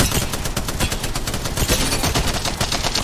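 Rapid automatic gunfire from the video game Apex Legends, dense continuous bursts of close, loud shots rattling without pause for the whole stretch.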